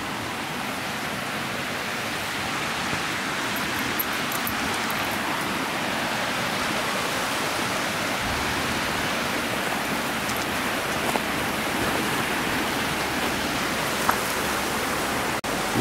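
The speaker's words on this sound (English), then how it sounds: "You wanna go see the water, Cooper?" Rushing water of a mountain stream at an overnight truck-tent campsite: a loud, steady broadband roar of flowing water continues unbroken throughout, close by, with no talk.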